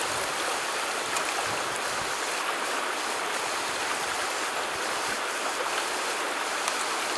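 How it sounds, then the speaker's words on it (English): Water runs steadily through a DIY field water filter, a continuous broadband rushing and trickling wash with no breaks, fairly loud and close. "just keep running your water through the filter multiple times"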